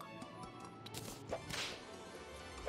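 Several quick whip swings from the video game Terraria crack and swish in a short burst, fairly quiet against faint in-game ambience.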